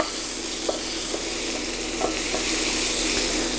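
Ingredients for chicken and sweetcorn soup sizzle steadily in a hot pan while a spoon stirs them, adding a few soft scraping knocks over the constant frying hiss.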